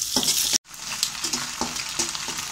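An egg frying in a pan for khichuri gives a loud, close sizzle, with repeated scrapes and clinks as it is stirred and a brief break just after the start.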